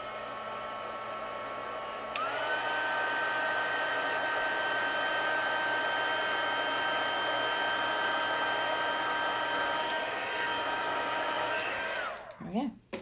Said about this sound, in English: And then I can get my heat tool